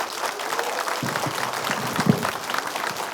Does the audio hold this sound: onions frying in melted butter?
no